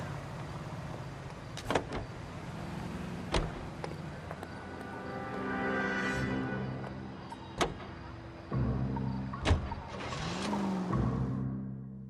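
A car driving in the 1940s Los Angeles crime game L.A. Noire, with a steady engine hum, occasional sharp clunks and thumps, and a rising tire or engine whine near the end, moderately quiet throughout.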